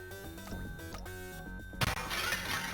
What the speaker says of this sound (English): Kick the glass.